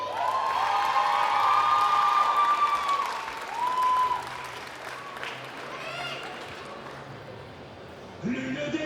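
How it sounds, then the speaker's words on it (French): At a manga convention cosplay show, the crowd claps loudly for an Akaza cosplayer, with whoops and a high whistle riding over the applause before it dies down and voices return. "Est-ce que vous êtes prêts à faire un tonnerre d'applaudissements pour Akaza"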